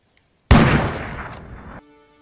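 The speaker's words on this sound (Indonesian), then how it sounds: "Jacklah yang lebih dulu menembak mati Samsul dengan shotgun milik sang ayah" A single loud shotgun blast in an action film scene, a sharp sudden report that rings out and decays over about a second before cutting off, with quiet room tone around it.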